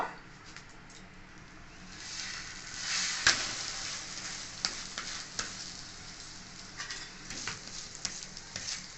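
A flipped atta roti fries in a pan with a soft, steady sizzle that swells and fades, broken by a few small crackles and a sharp tap or scrape near the middle.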